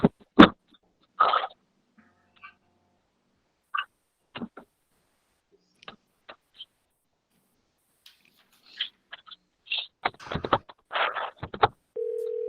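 A phone call placed during a school board meeting held remotely: scattered dialing tones and short electronic beeps with gaps of silence, then a steady tone rising at the end, with no talking.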